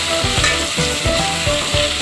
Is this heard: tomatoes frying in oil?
yes